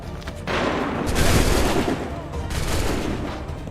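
Musket volley in the video game Assassin's Creed III, two dense bursts of overlapping gunfire rolling like a crackling roar, loud and sustained for a second or so each, with a brief lull between.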